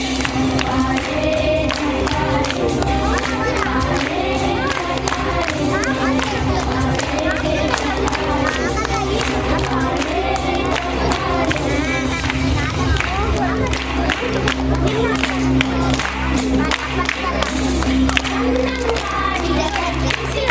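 A crowd claps steadily at a school farewell ceremony for a head teacher, the applause dense and continuous under loud music and singing throughout.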